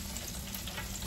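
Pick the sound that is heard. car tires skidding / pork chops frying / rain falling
pork chops frying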